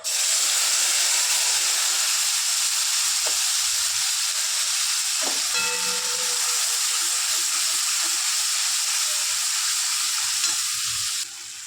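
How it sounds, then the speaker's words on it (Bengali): Whole garam masala spices sizzle loudly in hot oil left from frying fish, a bright, steady hiss that runs unbroken throughout, with a few faint clinks in the middle. "মাছ ভাজা তেলটার মধ্যেই গোটা গরম মশলাটা দিয়ে দেবো"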